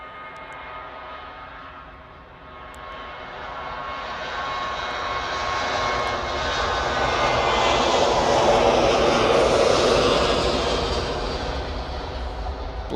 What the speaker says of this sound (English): Ryanair's off to Brussels or Charleroi. 737-800,